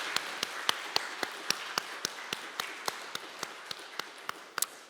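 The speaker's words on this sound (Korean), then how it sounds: "우리 다시 부활하신 예수님께 영광의 박수 함께 하겠습니다" A church congregation at Sunday worship clapping together in a steady, evenly spaced rhythm, sharp claps in unison repeating about every quarter second, moderately faint in a reverberant hall, with no voices.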